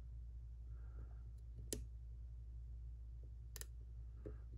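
Faint pin clicks sound inside a Sparrows lock being picked, two sharper ticks and a few softer ones spaced over steady low hum, quiet and close with no voices.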